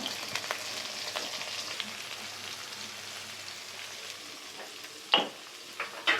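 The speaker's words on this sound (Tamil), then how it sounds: "நல்லா கலந்து விடுங்க. நல்லா ப்ரௌன் கலர் ஆகணும். அந்த அளவுக்கு நல்லா வணக்கி விடுங்க." Onion and garlic sautéing in oil for an aloo methi gravy make a steady, close frying sizzle, with a few louder clinks of a stirring spoon toward the end.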